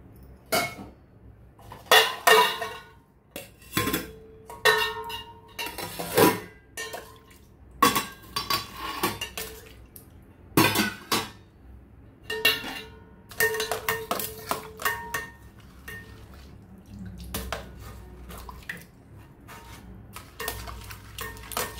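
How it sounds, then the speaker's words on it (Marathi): Hot water poured over metal utensils being washed in a home kitchen in Goa, with splashing bursts between loud clanks and clinks of steel pots and dishes knocked together, close and intermittent. "ताका दुसऱ्या आयदनाचेर उदक घालता गरम गरम."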